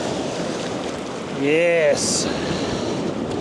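Ocean waves breaking on a beach during shore fishing, a steady washing surf roar under light wind, with someone briefly speaking over it.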